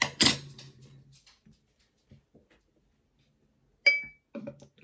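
A bottle of Five Points Brewing Co Railway Porter, a London-style craft beer, is cracked open with a sharp, loud click. Quiet handling follows, then another bright glassy clink.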